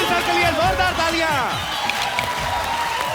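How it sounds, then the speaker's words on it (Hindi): Studio audience on an Indian comedy talk show breaks into loud applause and cheering, with voices and laughter carrying over the clapping for a few seconds. "जोरदार तालियां"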